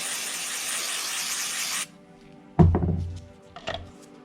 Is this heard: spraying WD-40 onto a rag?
yes